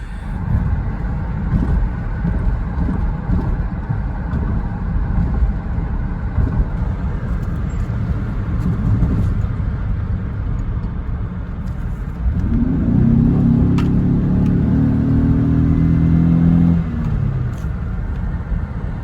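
A 2006 Buick Lucerne's 3.8L engine, misfiring on the interstate, drones and rumbles loudly from inside the vehicle, sounding rough and uneven, with a deeper throbbing tone rising partway through.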